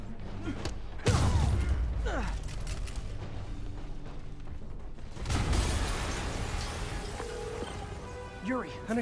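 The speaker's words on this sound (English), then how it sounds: "an explosion just" Explosion in the Spider-Man video game: a loud booming blast hits early and a second heavy rumble follows midway, both over continuous game noise, mechanical creaks and clatter.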